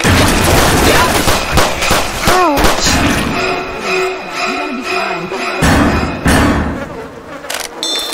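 Gunfire in Left 4 Dead 2, aimed at the Witch, fills a loud, busy game scene with rapid overlapping shots and clatter, with voices and game effects mixed in.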